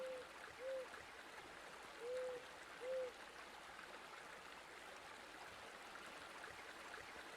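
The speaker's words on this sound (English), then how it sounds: "Oh, an owl? Did you hear it?" Four short, soft owl hoots sound in the first three seconds over a steady rushing of stream water in a forest scene in the video game Eastshade.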